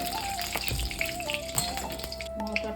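Two bay leaves and half a spoon of whole cumin seeds sizzling in hot oil in a pan, a steady close crackling hiss running throughout with a few faint clinks, no talking.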